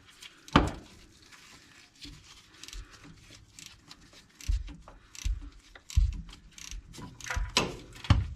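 Bolts on the torque tube of a 1952 Chevrolet Styleline Deluxe are loosened with a ratchet, bursts of rapid clicking and metallic clunks recurring close by at irregular intervals.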